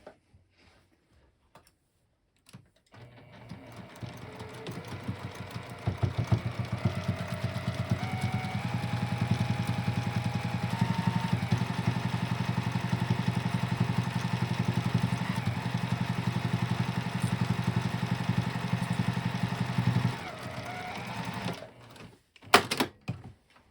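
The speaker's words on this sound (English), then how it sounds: "we'll just sew along that top edge with a 1/4 inch seam" A sewing machine stitches a quarter-inch seam along the top edge of a knitting project bag, a steady close mechanical whir running about twenty seconds with shifting pitch, starting and stopping with brief clicks.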